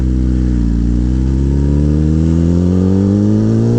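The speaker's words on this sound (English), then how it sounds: "Let's see how the bike feels now in low power mode." A Kawasaki Ninja ZX10-R in low power mode accelerates hard and close, its engine note climbing steadily in pitch through a continuous loud rising drone.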